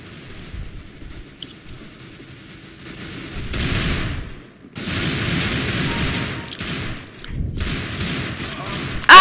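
Gunfire in the video game CS:GO with a Desert Eagle, several loud bursts of shots separated by short gaps across the clip, ending in a sharp final blast.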